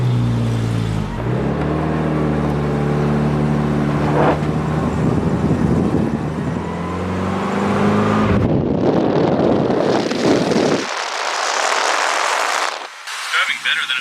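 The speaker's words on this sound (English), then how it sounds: "It's the inaugural journey of the blue truck." A blue truck with a freshly rebuilt carburetor drives along, its engine droning loud and close with wind buffeting the microphone, pitch shifting as it accelerates, while people talk inside.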